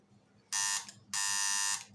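A newly wired electric doorbell buzzes loudly twice just after its power is switched on, with a short first ring and a longer second one, separated by a brief gap in an otherwise quiet room.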